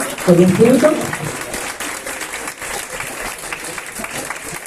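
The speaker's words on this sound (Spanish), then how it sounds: "Un fuerte aplauso también para el profesor." An audience at a panel on autonomous learning applauds a professor, a steady moderate clapping with a voice briefly heard over it near the start.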